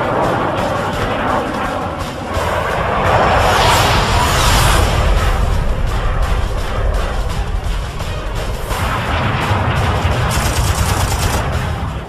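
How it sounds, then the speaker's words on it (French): Machine gun bursts from an F-86 Sabre fighter jet in a dogfight with a MiG-15: loud sustained rapid-fire rattling in long bursts over a roaring jet engine, with whooshing swells. "J'ai tiré quelques rafales et je me suis aidé des balles traçantes pour ajuster mon tir."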